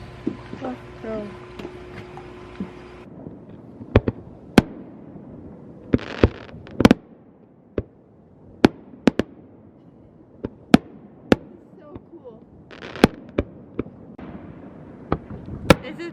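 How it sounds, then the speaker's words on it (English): Sharp fireworks bangs, heard from a boat, burst irregularly, some near and loud, others fainter, over a low rumbling background with brief voices early on. "we're going out on the boat to go see the fireworks"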